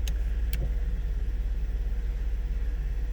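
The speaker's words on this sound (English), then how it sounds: "I got the vehicle running." A 2014 Ford F150 XLT SuperCab with the 3.5L engine idles with a steady, loud, low rumble and a pulsing throb. Two brief clicks come near the start, and no one speaks.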